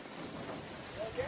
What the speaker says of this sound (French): il pleut à torrents pendant 1 mois